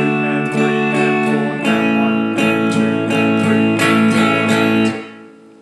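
An acoustic guitar strums the pre-chorus of a song, steady rhythmic chord strokes close and full, ending with a ringing chord fading out.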